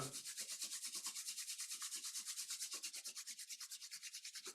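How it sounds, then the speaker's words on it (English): Palms rubbed briskly together during a yoga session, a fast and even swishing rhythm of many close strokes with no voice over it. "Rub the palms, generate Urja."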